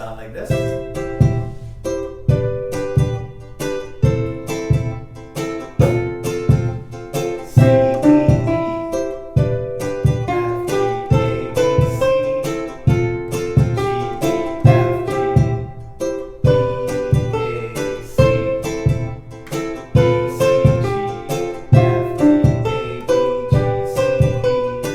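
A ukulele picks out a plucked melody with short rests between phrases over a steady backing track, bright and upfront throughout with no talking.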